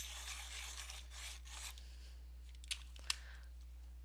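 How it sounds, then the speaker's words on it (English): A Thornton's chocolate-coloured pencil is sharpened with a few short scraping, rasping strokes close up, ending in a couple of small clicks; quiet and without talk. "Now chocolate I do have to sharpen."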